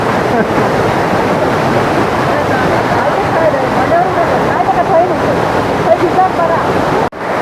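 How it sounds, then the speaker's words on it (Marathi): Kinalos waterfall in Konkan, Maharashtra, with water dropping from a great height, makes a loud, close, continuous roar that holds steady and cuts off sharply near the end. "या बाजूला खूप उंचावरनं पाणी पडते"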